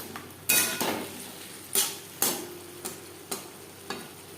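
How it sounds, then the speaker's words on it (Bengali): Potatoes with spices sizzle in a pan for Ilish fish curry while a spoon stirs and knocks against the metal in a string of distinct scrapes and clinks. "আলু বেশ ভালো করে মিক্সড করে দেবো। মশলার সাথে আলু আরও 4-5 মিনিট রান্না করব।"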